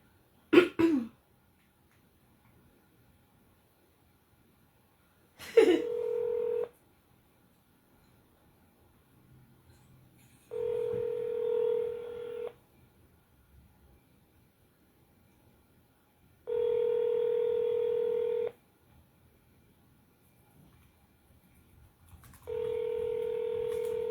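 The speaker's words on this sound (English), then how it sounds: "Okay, Brandon Gill. 972-966-5454." Touch-tone telephone dialing a number: four separate sustained bursts of dual-tone beeps spaced evenly several seconds apart, each lasting about two seconds, with quiet gaps and a few faint knocks between them.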